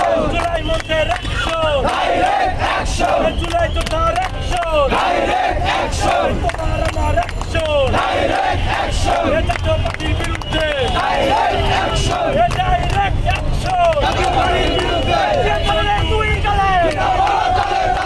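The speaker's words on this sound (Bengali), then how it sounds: "স্লোগান তারা দিচ্ছেন।" A large street protest crowd chants slogans in steady repeated call-and-response bursts, loud and continuous, with a sustained roar of voices underneath.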